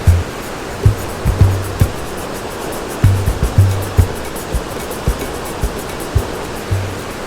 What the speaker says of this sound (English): we made it to the base of the waterfall here, and yeah, it's a big waterfall